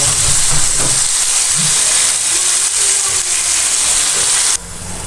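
Fresh spinach for aloo palak hits a hot pan of cooked masala, giving a loud, steady, close-up sizzling hiss that holds for several seconds before abruptly dropping to a softer simmer near the end.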